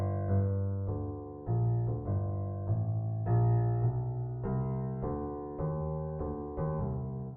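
Jazz piano bass line for a tune, played evenly with no accents: a steady walking run of distinct low notes, loud and close, with no talking.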